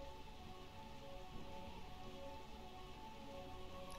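Steady, continuous rain falling over the city of eternal rain in the video game Final Fantasy IX, a soft even hiss of drops with a faint tonal hum underneath, unbroken throughout.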